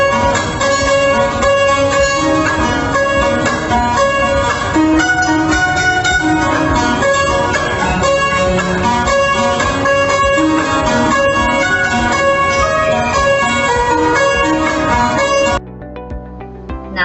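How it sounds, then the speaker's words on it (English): Selempo, a 13-course double-string Indonesian gamelan zither, plays a dense ringing stream of plucked metallic tones with overlapping sustains for about fifteen seconds before cutting off into a brief faint tail. "And here's the sound of selempo."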